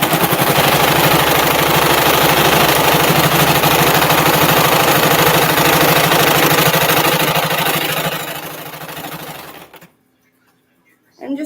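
Sewing machine stitching a fabric face mask runs loud and continuously with a rapid mechanical chatter, then slows and stops near the end, leaving near silence before a brief sound.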